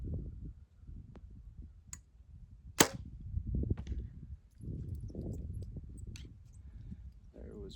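An Easton Sonic arrow leaves a bow with one sharp, brief snap in an otherwise quiet outdoor setting, against a low background rumble and faint murmurs.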